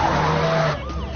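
A car accelerating hard during a police chase, a loud close engine roar with a tire-skid screech that cuts off abruptly, followed by quieter engine sound.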